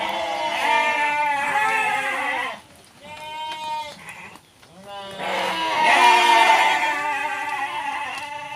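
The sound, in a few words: goat bleating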